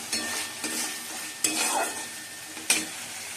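Spices frying and being stirred in a pan with cashew nuts, sizzling steadily while a spoon scrapes and knocks against the pan in a few sharp strokes, close by.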